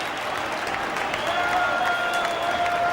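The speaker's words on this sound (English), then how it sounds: "A huge cheer going up from the Rangers fans" Rangers fans in a football stadium cheering and applauding at a cup presentation, a loud continuous roar of the crowd with a sustained whistle rising over it.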